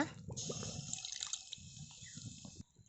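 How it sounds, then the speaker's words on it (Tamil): Water pours steadily into a cooking pot for rice, a bright continuous splashing stream that lasts about two seconds and then stops. Soft, lower gurgling sits beneath it. "இப்போ வந்து நம்ம தண்ணி ஊற்றிக்கலாம் அரிசி வேக வைக்க"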